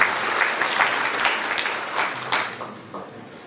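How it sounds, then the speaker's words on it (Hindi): An audience at a Republic Day gathering breaks into applause, a steady patter of many hands clapping that swells with a few sharper claps and then tapers off near the end. "इसके लिए जोरदार तालियां बनती हैं हम सब के लिए"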